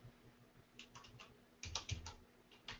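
A short run of typing on a computer keyboard, faint and close, with a few soft keystrokes followed by a denser, louder cluster, no talk.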